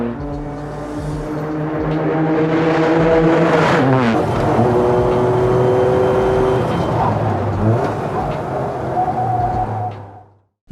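A close, loud turbocharged three-cylinder engine in a Toyota GR86 revs and pulls through the gears, with its pitch climbing and dropping in surges before cutting off abruptly at the end.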